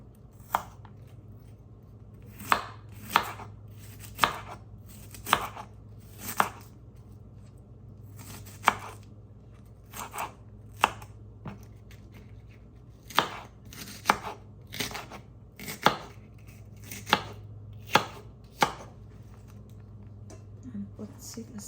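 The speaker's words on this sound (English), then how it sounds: "Then I'm gonna slice my" Onions sliced with a knife on a cutting board, giving a series of sharp, close chops spaced irregularly, some in quick pairs, over a low steady background hum.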